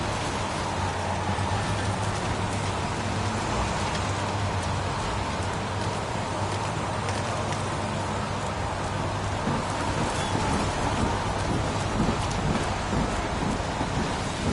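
Rain in the video game Heavy Rain, a steady dense hiss of downpour with a low rumbling undertone, continuous and fairly loud throughout, with no talk.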